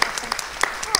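Brief, scattered clapping from an audience at a university event in Teramo, close and moderately loud, with a voice speaking over it.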